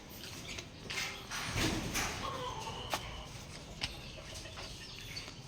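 A straight-comb gamecock broodcock clucks in a backyard, its calls mixed with bursts of flapping and shuffling against steady rough outdoor noise.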